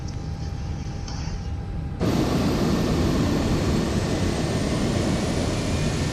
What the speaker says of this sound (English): Now we start engine number 1.